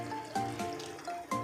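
Water pours into a pressure cooker holding pork trotters for adobo, a short, close gurgling trickle with a few splashing bursts, and no one speaking.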